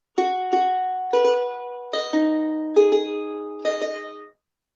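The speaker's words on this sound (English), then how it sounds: "So the strings, if I play them, what would be normally from low to high in a guitar, the strings are sound like this." A guitar strung with five double courses, each pair plucked once in turn: six clear ringing notes in an uneven sequence that does not climb steadily from low to high, close and alone.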